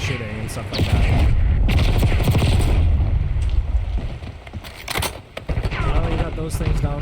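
Rapid bursts of automatic gunfire from shooting bots in Call of Duty, loud and sustained across several seconds with a few sharper single shots, under someone talking throughout.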